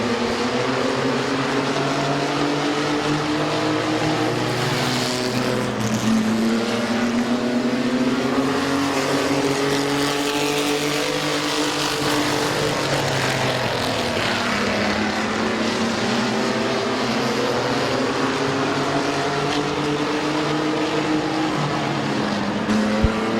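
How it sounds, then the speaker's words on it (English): Race trucks roaring around the oval at Midvale Speedway during a heat race, a steady loud wall of engine noise with rising and falling pitch as the field passes, no talk. "Rick Schweitzer, your point leader, fastest qualifier, and now leader in the heat race"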